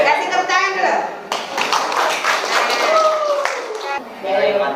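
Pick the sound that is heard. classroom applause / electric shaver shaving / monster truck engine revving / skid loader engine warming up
classroom applause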